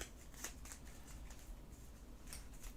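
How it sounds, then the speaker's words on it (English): A deck of cards for the board game Tin Helm being shuffled, a steady close riffling flutter with a few sharper snaps, quiet and without talk. "I'll just shuffle the deck and then we just draw a random card."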